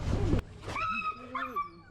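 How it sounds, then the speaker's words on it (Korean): A frightened dog on an Istanbul street whimpers and yips after a sharp bark, giving a run of thin, rising and falling whines, close and fairly quiet, with faint background noise at the start. "강아지 좀 쫄아있어."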